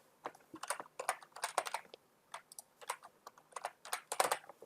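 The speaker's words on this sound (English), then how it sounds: "I'm going to type this number in both these boxes." Typing on a computer keyboard while entering a number on a Windows PC, heard as irregular bursts of close, crisp key clicks in quick clusters with short pauses, alone and without talk.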